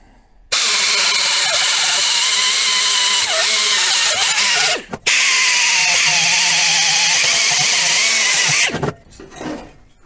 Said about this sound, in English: That wheel is doing just a phenomenal job of peeling that paint and rust off of there